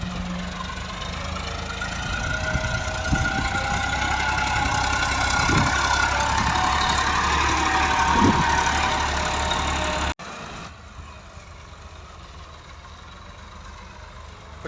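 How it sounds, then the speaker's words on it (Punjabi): A Massey Ferguson 260 tractor idles steadily, its mid-pitched diesel chug holding a continuous drone for about ten seconds before dropping to a quieter, thinner hum. "260 ਟਰੈਕਟਰ"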